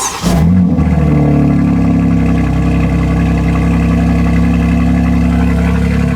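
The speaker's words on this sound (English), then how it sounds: "let's get a proper cold start because I haven't driven this car in like 3 days" A BMW G80 M3 cold start: the engine cranks and fires up, then settles into a loud, steady idle with a deep exhaust rumble that continues throughout.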